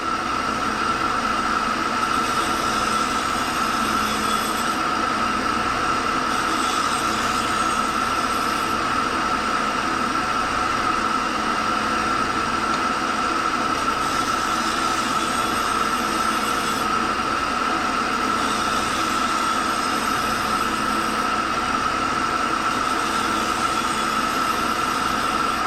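A tool and cutter grinder sharpening an internal scraper with extra cutting clearance: a continuous, steady high-pitched whine and grinding hiss, fairly loud and unbroken for the whole stretch, with no talking.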